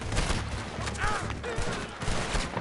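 Gunfire in Red Dead Redemption 2, a rapid fusillade of overlapping shots cracking close and loud in several bursts, with brief shouted voices mixed in.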